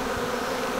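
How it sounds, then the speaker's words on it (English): Honey bees buzz in a dense, steady swarm drone at an opened beehive, close and continuous with no talking. "That's a lot of bees."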